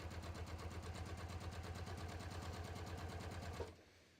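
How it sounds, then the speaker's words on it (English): A sewing machine stitching steadily down the edge of a heirloom garter belt at about a quarter-inch seam, a fast even needle rhythm running for several seconds before stopping abruptly. "I'm just going to stitch right down the edge of this"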